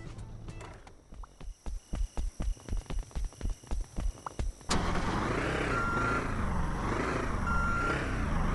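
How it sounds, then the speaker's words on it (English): Reversing beeps from a truck being parked at a port in a video game, a steady run of about a dozen evenly spaced electronic beeps that cut off as a louder, continuous engine and machinery hum takes over. "Again, park the truck and load the crate."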